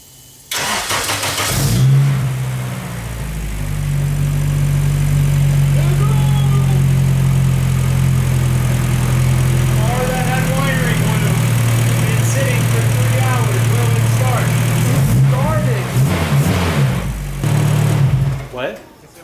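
K-swapped Nissan Cefiro engine cranks and fires, then runs loud and steady close by, with revs rising and falling throughout and a few bursts near the end; people talk faintly over it.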